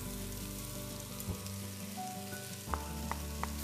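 Onion and garlic sizzle softly in a pan as the base of a seafood paella, a faint steady crackle under a low hum, with a few small clinks near the end.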